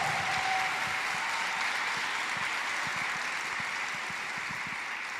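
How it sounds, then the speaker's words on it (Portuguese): Sustained applause from a church congregation during a revival sermon, steady and fairly distant, filling the hall without a break and with no voices above it. "pode aplaudir"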